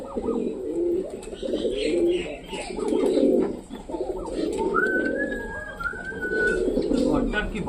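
Pigeons coo repeatedly inside a loft, rounded throaty calls rising and falling in close overlapping bursts, with a brief thin whistle-like call over them.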